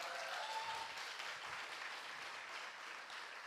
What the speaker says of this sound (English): Anybody want to clap for that?